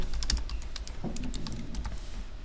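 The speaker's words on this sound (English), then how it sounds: "So then I just type here temperature" Quick, light key taps on a computer keyboard come in an irregular burst of close, crisp clicks with no talking.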